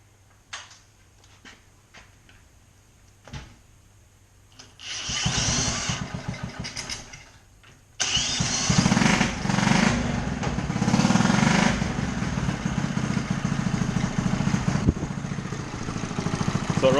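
A Honda Trail CT70H small motorcycle engine starts after a few clicks and brief cranking attempts, then catches and runs at a steady, loud, rattling idle close by.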